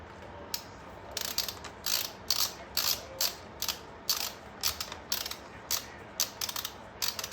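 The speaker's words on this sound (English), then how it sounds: "I'm going to use the star pattern to torque these down evenly" A hand ratchet torques the primary chain case cover bolts on a 2008 Harley-Davidson CVO Electra Glide, giving close, crisp bursts of rapid clicking, about a dozen short runs separated by brief pauses, with no talk.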